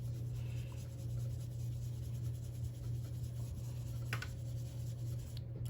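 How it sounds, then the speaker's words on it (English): An ink blending tool rubs softly through a cityscape stencil onto card-making paper, a quiet continuous scrubbing over a steady low electrical hum. "And I'm gonna come in for ink blending."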